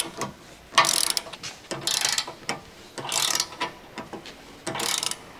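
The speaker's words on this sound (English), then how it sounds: "Tighten the trailer hook mounting bolts." An extendable ratcheting wrench with a 24mm deep socket tightening the rear trailer hitch mounting bolts on a Land Rover Discovery 4, giving repeated bursts of close, crisp ratchet clicking separated by short pauses.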